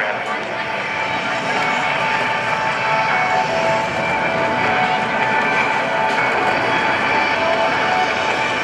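An L-39 jet trainer flies at a naval air station airshow, its engine a loud, steady, broadband roar that holds evenly throughout without a break.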